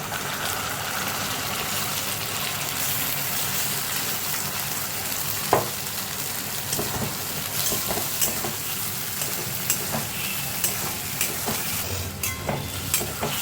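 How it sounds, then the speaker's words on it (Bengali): Ground spice paste sizzles steadily as it is fried and stirred into already-fried onions in a pan for a fish curry, with soft scraping and clinks from stirring rising near the end. "খুব ভালো করে মশলাটাকে ভেজে নেব।"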